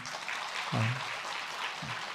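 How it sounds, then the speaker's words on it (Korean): Church congregation applauding during a Korean Methodist worship service, a moderate steady patter of clapping with a couple of low voice murmurs mixed in. "우리 아마 잘했다고 박수 한번 해주세요."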